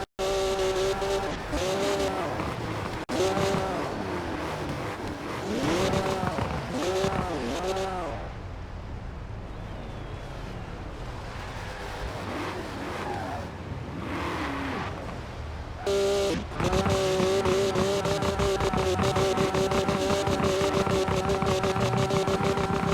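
A BMW M4 GTS engine in the Forza Horizon 5 racing game blares loudly, revving up and down through gear changes with tire squeal and skids, a brief lull midway before the roar returns.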